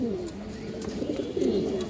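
A female pigeon coos in soft, low, repeated rolling calls, close by over faint background noise.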